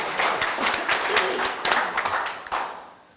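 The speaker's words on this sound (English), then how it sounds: "Let's give Matt a round of applause" Applause from the audience at a Batavia City Council meeting: a round of fairly close, individually distinct claps that thins out and fades toward the end.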